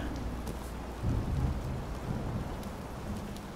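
Steady rain falls in the horror video game In Sound Mind, a continuous wash of hiss with a low rumble swelling briefly partway through, heard alone with no voices.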